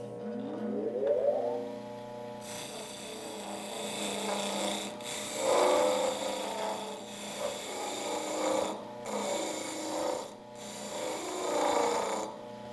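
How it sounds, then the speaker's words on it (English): A dressing tool working the face of a soft bond 120 grit grinding wheel: the spinning motor hum rises, then a steady loud rasping scrape runs on with brief dips as the tool is lifted. "to clean the face of this wheel at the same time shaping a slight crown in the edge"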